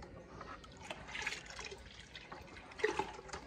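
Tap water runs in a home in a soft, steady stream, faint and a little distant, with a few louder splashes and drips near the end.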